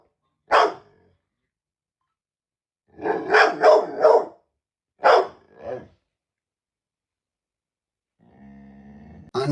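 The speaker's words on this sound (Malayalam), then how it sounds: "അതായത് പട്ടി കുരയ്ക്കും" A pet dog barks in several close, loud bursts: a single bark, then a quick run of four, then two more, with silence between and some faint other noise at the very end.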